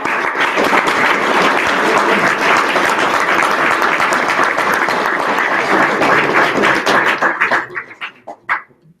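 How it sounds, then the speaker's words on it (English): An audience applauds after a school talk by Arun Gandhi, a dense, loud burst of many hands clapping that holds steady for several seconds before thinning into a few scattered claps and fading out. "give them a round of applause"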